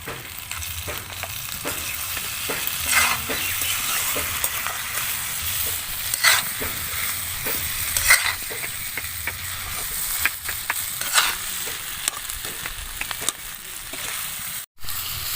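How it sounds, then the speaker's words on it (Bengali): Cauliflower and potato stir-fried with spices in a pan for a rohu fish curry, a continuous frying sizzle under frequent scraping and clattering stirs of the spatula, close and fairly loud. "তো মশলার সাথে আমি 2 মিনিট মতো একটু নাড়াচাড়া করে নেব"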